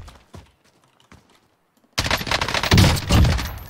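Gunfire in Call of Duty Warzone: a few sharp, isolated shots at first, then a loud, dense burst of rapid fire that keeps going to the end.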